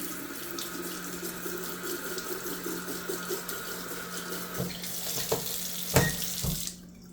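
Tap water runs steadily into a sink as products are rinsed off, a continuous splashing flow that breaks into a few louder splashes near the end before the water stops.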